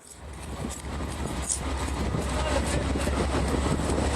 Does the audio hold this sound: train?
yes